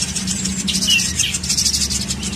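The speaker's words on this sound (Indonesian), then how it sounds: "Dan ini pelatuk bawang yang gacor-gacor" A young pelatuk bawang woodpecker chick calls shrilly in quick, repeated high chirps, close and continuous over a low steady hum, with no talking.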